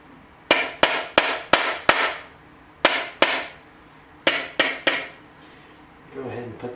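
A tang bolt is tapped through the stock of a Kibler Woodsrunner rifle: sharp, close, hard knocks come in bursts of five, then two, then three, each ringing briefly before fading.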